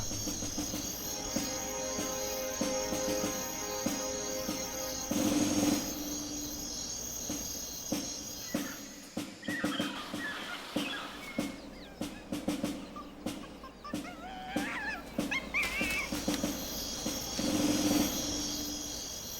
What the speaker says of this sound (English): the hypnotic buzz of the cicadas is too much for some